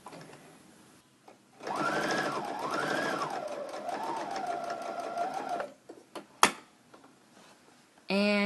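Sewing machine running steadily for about four seconds while stitching a quarter-inch seam with Aurifil thread, a fast whirring hum with small speed changes, followed by clicks and handling noises.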